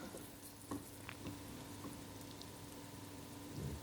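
Mutton chukka frying in an oiled pan, stirred so the pieces hiss and sizzle steadily with a few soft scraping knocks of the spoon, close and fairly quiet, no voices.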